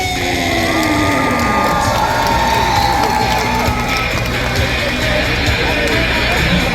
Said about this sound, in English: Big round of applause for Cody Adams!